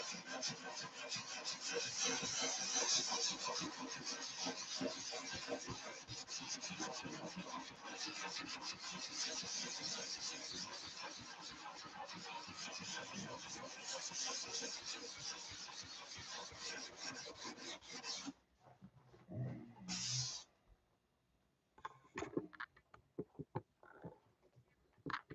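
Wood is sanded by hand in long, continuous rasping strokes that run steadily for most of the stretch, then break off into scattered short rubs and quiet gaps near the end.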